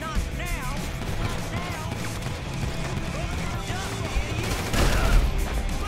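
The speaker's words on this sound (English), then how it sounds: "You know what's gonna happen if we keep shooting here?" Rapid bursts of gunfire from a Grand Theft Auto 5 shootout crackle under almost continuous excited talk, with a heavier cluster of shots near the end.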